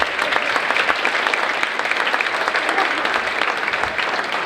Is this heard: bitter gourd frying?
no